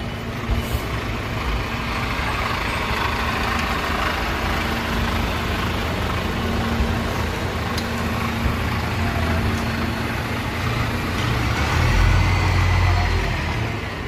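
A rail replacement bus pulls out of the Hagen bus station, its engine a steady, fairly quiet rumble under general station noise, swelling slightly near the end as it moves off.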